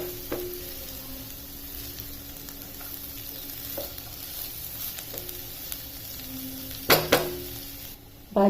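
A spoon stirs a tomato, onion and dal curry in a pan over a steady soft sizzle, with scattered scraping clinks and a sharper clatter near the end.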